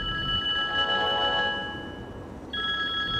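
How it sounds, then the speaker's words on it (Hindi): A telephone rings with a steady electronic tone that pauses briefly and then resumes, clear and close in a quiet room with no one talking. "सना का फोन है"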